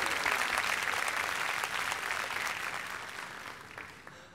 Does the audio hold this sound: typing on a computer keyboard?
no